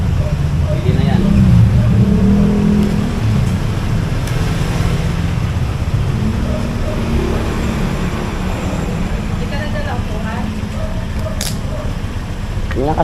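A motorcycle engine runs steadily at Maragondon, a loud continuous low rumble throughout with people talking over it.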